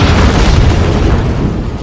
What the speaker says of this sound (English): Loud thud, assuming that was what killed the parents.